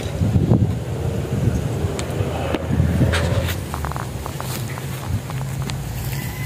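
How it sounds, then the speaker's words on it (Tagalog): Steady wind rushes across the microphone outdoors in a vineyard, with low rumbling buffets and faint scattered clicks and movement noises throughout. "Sarap ng hangin."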